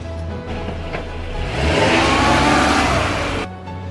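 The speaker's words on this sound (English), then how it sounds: "Brown car." A car engine revs up, swelling from a steady idle to a loud roaring peak in the middle, then drops back to idle near the end, with no one talking.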